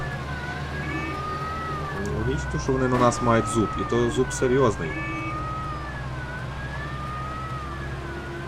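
A police siren in the video game Mafia II wails up and down steadily in the background while someone talks over it, with engine hum underneath.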